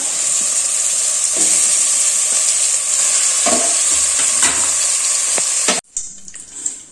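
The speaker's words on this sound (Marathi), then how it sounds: "त्यानंतर आपण हे चिकन जे आहे धुवून घेतलं होतं ते चांगलं ह्या तेलामध्ये परतून घ्यायचे आपल्याला" Chicken frying and being stirred in hot oil in a home kitchen wok, a loud steady sizzle with scraping stirs throughout, cutting off abruptly near the end to quieter crackling.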